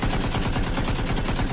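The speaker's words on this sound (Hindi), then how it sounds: "अगला बंदा उसको फायरिंग कर रहा है यार" Gunfire plays from a phone video, a dense, rapid rattle of shots that fills the whole short moment at steady loudness with no voices over it.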